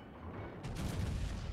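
A warship's naval guns fire in World of Warships, a deep muffled boom bursting in after a low rumbling lead-in and rolling on as a loud, dense blast.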